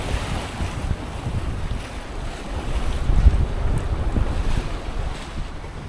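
A sailboat under way makes strong wind and wave noise: gusty wind buffets the microphone and water rushes and splashes against the hull in uneven surges, loudest near the middle.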